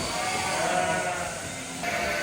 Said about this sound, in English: Sheep go up, and then little lambs go out.